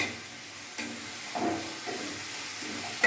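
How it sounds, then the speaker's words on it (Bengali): Chopped tomatoes frying with spices for murighonto sizzle softly while a spoon stirs them, giving scraping strokes at irregular intervals and a sharp clink at the end, close up with no speech. "এবার একটু ভাজা পর্যন্ত আমি একটু নাড়বো"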